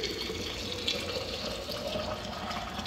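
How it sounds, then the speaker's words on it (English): Hot water pours steadily into a glass canning jar for cranberry juice, giving a continuous, even rushing splash with no pauses. "take your hot water and then just fill up your jar"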